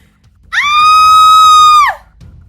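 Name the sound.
woman screaming in audio drama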